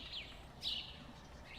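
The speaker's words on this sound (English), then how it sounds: "I don't know what bird is just super loud here." Loud bird calls in the train simulator game Trainz: a few high chirping phrases repeat at intervals over a faint ambient background, with no talking.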